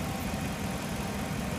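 A 2006 Jeep Commander with a 5.7-liter Hemi V8 idles in a steady, even low rumble, close and unbroken, with no talking.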